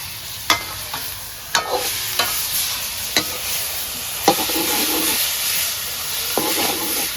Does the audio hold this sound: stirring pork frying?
yes